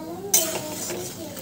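Pots and metal utensils clink in a home kitchen while dal and fried potatoes cook. One sharp clatter is followed by lighter rattling, close and moderately loud, over a faint background voice.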